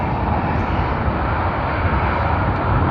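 An airliner departing Sydney Airport roars with a broad, steady jet engine rush, loud and continuous without any talk.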